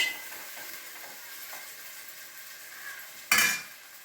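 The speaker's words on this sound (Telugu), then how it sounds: "టమాటాలు టమాటాలు కూడా వేసి బాగా మగ్గనివ్వాలి" Tomatoes cooking in a pan for an okra and prawn curry give a faint, steady sizzling hiss, broken near the end by one brief clatter of stirring against the pan.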